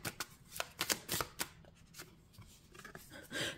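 Tarot cards being shuffled and laid out on a table, a run of crisp flicking riffles and slaps in quick bursts, then quieter handling, close and clear.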